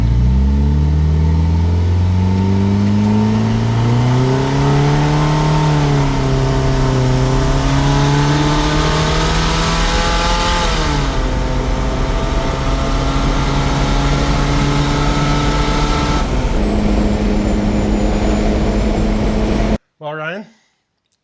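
Modified VW Beetle engine revving hard and building boost while driving, a loud continuous drone whose pitch climbs through the gears with shift dips, then cuts off abruptly near the end.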